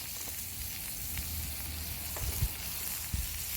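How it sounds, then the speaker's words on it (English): Butter melts and sizzles in a cast iron pan for grilled cheese, giving a steady close crackle with a few louder pops and light scraping, no talking. "Let me throw some more butter in this pan. Get it melting."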